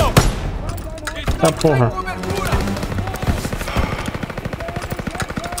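Rapid gunfire from a weapon in Call of Duty WW2, a close, dense run of sharp repeated shots with a clattering rhythm, with someone speaking briefly over the first bursts.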